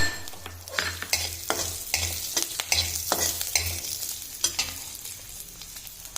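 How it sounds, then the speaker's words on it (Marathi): Cumin seeds and garlic roast in a dry pan, giving a steady close sizzle and crackle broken by repeated sharp scrapes and taps of a spatula over several seconds, with no one speaking. "जिरं पण भाजून घ्यायचं आहे थोडं, आणि लसूण पण"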